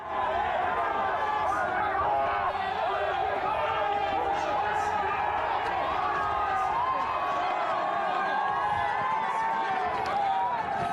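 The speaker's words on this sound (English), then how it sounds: "Let's listen to those crowds." Spectators line the course at the UTMB Mont-Blanc ultramarathon on the downhill toward Chamonix, a dense crowd chatter and cheering that holds steady throughout with voices calling out over it.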